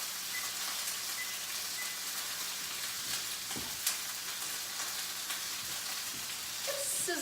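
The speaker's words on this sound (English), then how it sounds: "There's the sizzle." Beef chuck roast browns in hot olive oil, making a steady, bright sizzle and crackle throughout, with an occasional clink.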